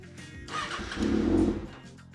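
A 2019 Kawasaki Ninja ZX-6R with an M4 exhaust fires up with a brief cranking whir and a short low, rough rise of engine noise that swells and then fades without holding.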